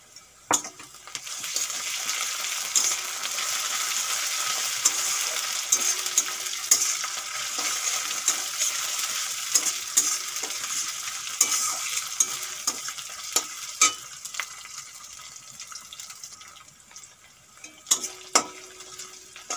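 Ginger paste sizzles steadily in hot oil alongside sliced onion for a Bengali mung dal fritter curry, with a continuous fry broken by scraping spatula strokes and light clinks of the pan, fading toward the end.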